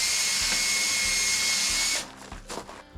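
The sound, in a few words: power drill drilling a hole in wood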